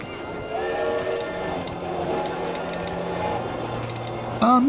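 A train in RollerCoaster Tycoon rumbles along with tonal whistle-like hums and scattered clicks, steady and moderate, followed by a short rising sound at the end.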